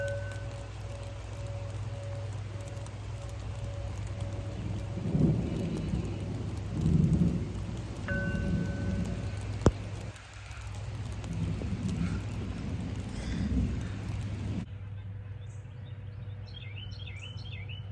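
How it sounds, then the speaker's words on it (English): Rain drums steadily on the roof of a van while low thunder rumbles through the downpour, swelling in a couple of deeper rolls before the sound cuts away. "I have the rain pouring on me."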